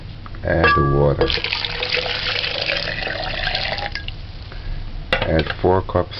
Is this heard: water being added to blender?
yes